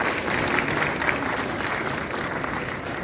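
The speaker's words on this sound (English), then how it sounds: "let's give a round of applause to Hong Kong and all of us here in the hall" Crowd applause in an exhibition hall at the opening ceremony of the Hong Kong international jewellery, diamond, gemstone and pearl shows, a dense even clapping from many people that holds steady throughout.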